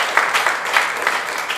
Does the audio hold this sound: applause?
yes